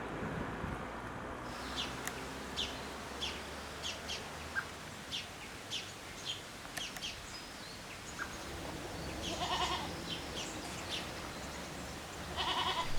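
A goat herd bleats from a short distance in short, scattered calls over a steady outdoor background, with birds chirping and a few calls overlapping near the end.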